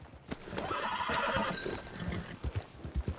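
A horse in the video game Red Dead Redemption 2 whinnies loudly in a long, wavering call, followed by a few heavy hoof thumps and snorts near the end.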